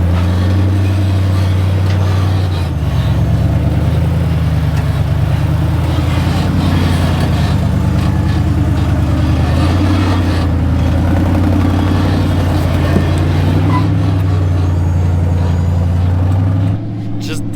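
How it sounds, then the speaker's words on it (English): An off-road vehicle crawls over boulders on the Rubicon Trail, its engine droning and rumbling loud and close throughout, shifting in pitch as it works over the rocks. "I am driving on the Rubicon Trail."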